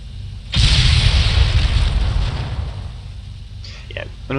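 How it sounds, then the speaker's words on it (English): An assault gun fires in the strategy video game Mechanized Assault and Exploration: one heavy, booming blast that rolls into a long rumbling decay, with a short sharper sound just at the end. "Looks like the assault gun returned to fire."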